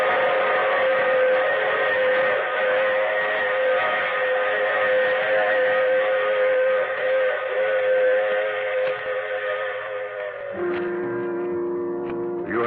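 A train sound effect in an old-time radio mystery drama: a steady, loud, harmonic whistle-like drone of a moving train holding for many seconds, then shifting pitch near the end, alone without speech.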